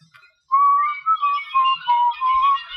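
A person whistles a wavering, melodic tune alone for about two seconds, a clear, close tone broken into several short phrases after a brief quiet start.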